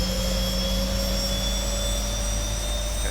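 A Boeing 737-700 jet engine starts up in the X-Plane 11 flight simulator, producing a loud, steady whine and roar with constant tones that holds evenly throughout, with no talking.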